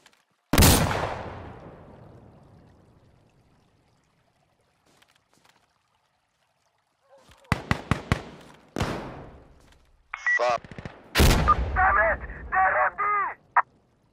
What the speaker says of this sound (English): Shooting that little ass pistol in there.